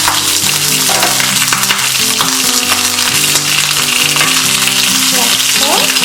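Peppers roasting in a hot pan as they are turned, a loud, constant close sizzle with faint shifting and stirring sounds.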